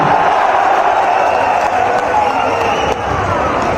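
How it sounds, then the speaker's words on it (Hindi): At an outdoor BJP election rally in Puri, Odisha, a large crowd claps and cheers continuously, a loud, dense roar of applause with a few sharp knocks near the end. "और हमारे सम्मानीय विधायक समीर रंजन दास जी के लिए जोर से ताली बजाएगा"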